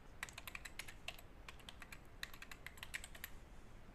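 Light, quick keystrokes on a computer keyboard as a domain name is typed in, two short bursts of rapid clicks separated by a brief pause, faint and close.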